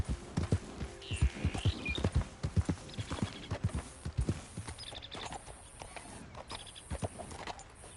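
Horse hooves clip-clopping at a steady walking rhythm in Red Dead Redemption 2, close and fairly quiet, with faint background game sounds.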